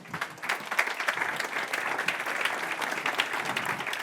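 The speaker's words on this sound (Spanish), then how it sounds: "Un aplauso, por favor." An audience at a sector conference on digitalization claps for a legal adviser, with steady, moderately loud applause of many hands that swells slightly and continues throughout.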